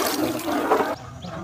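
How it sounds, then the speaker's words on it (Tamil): Plain water poured into a cooking pot for a village-style fish curry, a short close gush of splashing liquid that cuts off abruptly after about a second, leaving a quiet tail. "பச்சை தண்ணி"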